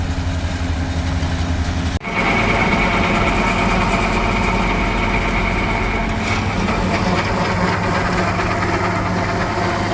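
A heavy tractor engine running a mulcher in a field, steady and nearby, a loud continuous droning hum with mechanical vibration and a whining drive underneath, never letting up.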